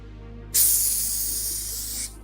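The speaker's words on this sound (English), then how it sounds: "Something's wrong with the airbrush." Air hisses from a malfunctioning hobby airbrush in one close, loud burst that starts abruptly, holds for about a second and a half while fading slightly, then cuts off, with a low hum underneath.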